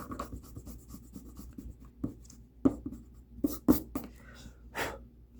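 A big eraser rubs back and forth on drawing paper during a perspective drawing session, giving close, soft scrubbing strokes in uneven bursts with a few sharper scuffs.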